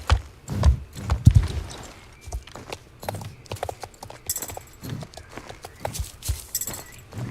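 A horse gallops in the Star Stable video game with quick, uneven hoof clip-clops and occasional thumps, moderately loud, over game background sounds.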